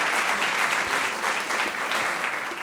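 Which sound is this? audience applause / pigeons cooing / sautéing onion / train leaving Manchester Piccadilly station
audience applause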